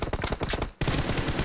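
Rapid automatic gunfire in PUBG Mobile, a loud, close burst of evenly spaced shots that cuts out for a split second and then resumes just as fast.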